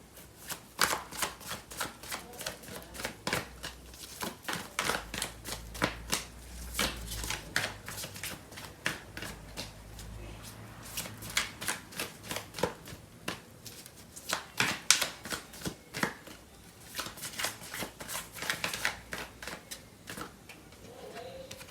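Tarot cards are shuffled by hand for a love reading, a long run of quick papery riffles and soft slaps in irregular bursts, close and fairly quiet, with no voice.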